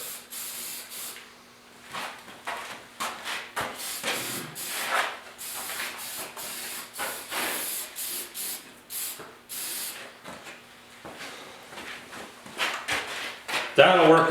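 Semi-gloss black spray paint is applied to a rusty tire rim in repeated hissing bursts of varying length, close and fairly loud, with pauses between strokes.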